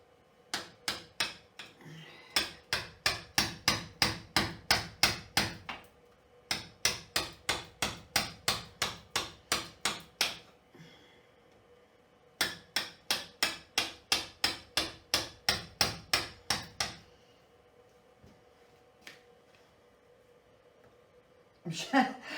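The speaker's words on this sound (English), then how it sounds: "I'm sure these are woodworking chisels, but hey ho. They're doing the job." Hammer blows drive woodworking chisels during a winter renovation project in central Portugal: fast, evenly spaced sharp strikes come in three long runs of a dozen or more hits, with short pauses between them.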